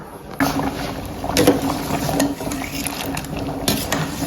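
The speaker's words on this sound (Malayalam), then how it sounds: "ഇനി നമുക്ക് ഉരുളക്കിഴങ്ങ് ഊറ്റി എടുക്കാം" Potatoes boiled for about five minutes being drained for homemade French fries, with close sloshing water and clattering of pot and utensils, a continuous wet rushing under occasional knocks.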